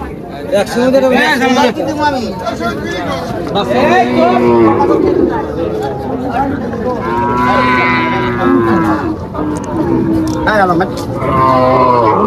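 Cattle lowing loudly and repeatedly at a cattle market in Faridpur, several long moos overlapping with crowd chatter close by.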